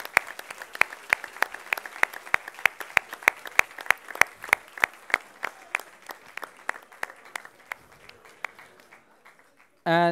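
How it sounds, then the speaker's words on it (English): Jurors at the IYPT 2024 final in Hungary receive a round of audience applause: sharp, regular claps ring out steadily for about eight seconds and then thin out, with a short burst of other noise at the very end. "let's give them a big applause."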